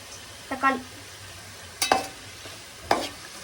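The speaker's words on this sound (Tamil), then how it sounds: "தக்காளியை போட்டு நல்லா மிக்ஸ் பண்ணி" Tomatoes being stirred in a frying pan while cooking chicken biryani, with three separate scraping stirs over a faint sizzle, each a short clatter followed by quiet.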